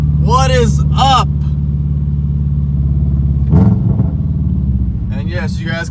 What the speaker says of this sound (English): you guys can tell my exhaust is ready for some action